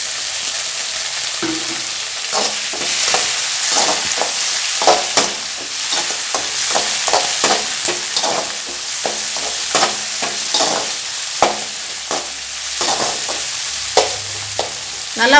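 Steady sizzling of chopped tomatoes sautéing in a pan, with frequent scraping and stirring taps throughout, close and fairly loud.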